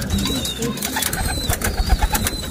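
Pet pigeons coo softly nearby amid shuffling and rustling, with a few low throaty calls over a mixed background and a person talking faintly.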